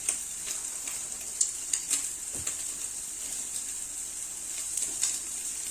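Bacon and eggs fry in a pan with a steady, fine sizzle and crackle, broken by a few brief pops and clicks; the sound stays moderately close, with no talking.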